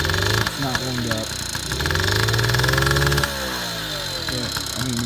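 A cold 1983 Honda Express moped engine idles low and steady, not yet warmed up, its mid-pitched putter running continuously and close by with a brief dip partway through.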